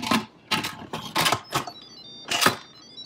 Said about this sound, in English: I'm gonna put the lid on,